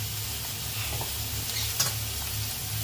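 Mutton pieces hit a hot pan for a Mughlai mutton paratha and sizzle steadily, a soft continuous frying hiss with a few brief stirring scrapes and no talk.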